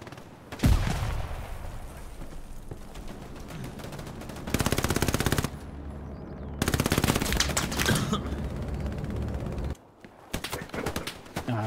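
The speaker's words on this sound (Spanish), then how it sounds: "Es que disparan desde ese lado." Loud, sustained machine-gun bursts tear through a World War II battle in the game Hell Let Loose, several long rattling volleys separated by short pauses, close and dominant with faint distant shots between.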